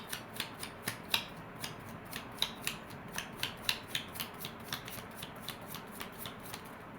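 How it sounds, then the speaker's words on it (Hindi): Tarot cards riffled and shuffled by hand in a steady run of crisp, evenly spaced flicks, close and clear with no talk over them. "just one shuffle for pile number 3, one shuffle for pile number 3"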